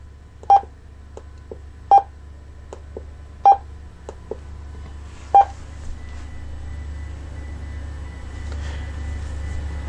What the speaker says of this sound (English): I can now hear a faint signal coming from the speaker.